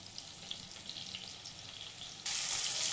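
Slices of pointed gourd fry in oil over a medium flame, giving a steady soft sizzle that swells sharply louder near the end, with no voices.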